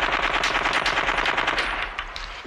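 Loud, rapid machine gun fire from the 1989 puppet film Meet the Feebles, a dense continuous burst of shots that runs steadily before thinning slightly toward the end, with no voices.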